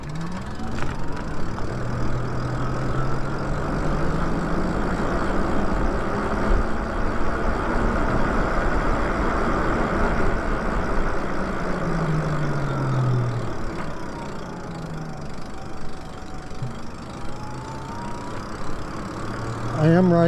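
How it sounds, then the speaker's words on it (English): An original 2022 Lyric Graffiti motorcycle engine runs steadily while being ridden, a continuous close rumble with slowly rising and falling pitch as speed changes, with talking over it. "I am riding the Lyric Graffiti right now, the original 2022 version."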